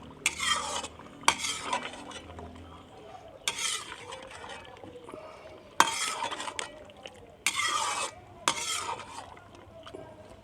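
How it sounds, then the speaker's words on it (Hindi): Mutton karahi stirred with ghee in a pan: repeated bursts of scraping and clinking as a spoon works through the meat, with a faint sizzle between strokes and no talking. "घी डालने के बाद अभी मैं इसको अच्छे से मिक्स करूँगा"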